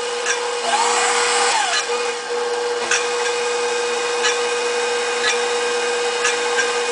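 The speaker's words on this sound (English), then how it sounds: "there's a little bit of that rasping on the side of the whisk, which means that, you know, obviously the whisk is touching the side" A KitchenAid Professional 550 Plus stand mixer runs with a steady motor whine while its whisk rasps and ticks against the side of the bowl in a regular repeating rhythm, close and loud.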